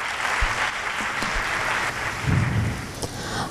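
A concert audience at an equality music event in Chiclana claps in a steady, broad wash that holds evenly throughout, with a few low thumps mixed in and no voices.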